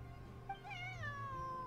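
One long, drawn-out, falling meow from a cat in a video game is heard clearly over a low steady music drone, with no voices.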